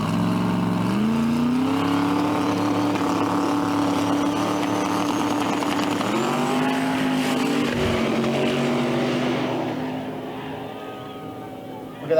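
A drag racing car run by the truck called Taco Trucks, with an engine roaring loud and sustained, pitch climbing and wavering through gear changes before the noise fades away at the end.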